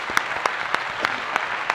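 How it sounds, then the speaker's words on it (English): A studio audience applauding at the Steamies awards event on the H3 Podcast, a short burst of brisk, even clapping heard on its own. "Every single person here is being paid to clap."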